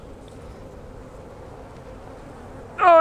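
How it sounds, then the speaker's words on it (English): A steady, low droning hum of many honeybees on a hive frame fills the clip, with a brief louder burst near the end. "Worker bees, worker bees."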